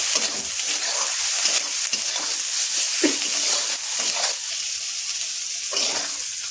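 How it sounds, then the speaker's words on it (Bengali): Spice paste with salt and turmeric frying and being stirred in a pan for a rohu fish curry, a steady close sizzle broken by repeated scraping strokes of the spoon throughout. "আবার আমি মশলাটাকে সুন্দর করে কষিয়ে নেব"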